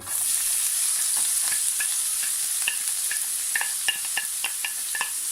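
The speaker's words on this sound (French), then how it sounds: "Je mets donc les 2 oignons que j'ai coupés en petits morceaux et le poivron rouge" Chopped onions and red bell pepper fry in oil, a steady bright sizzle with repeated clicking stirs of a utensil against the pan, close and clear, without talk.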